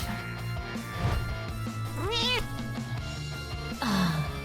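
Meowth, the cat Pokémon, lets out a few drawn-out, voiced meows in a French-dubbed Pokémon scene, performed by a voice imitating a cat over a steady background score.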